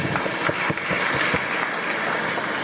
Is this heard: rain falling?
no